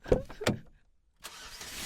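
A car engine starts after a couple of sharp door or handling sounds, then settles into a steady idle that carries to the end, fairly close and alone with no voices.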